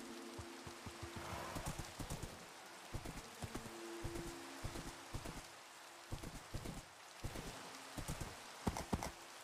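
Steady clip-clop of horse hooves trotting in a video game, a regular rhythm of distinct hoof strikes, fairly close, with a low background hum and no talking.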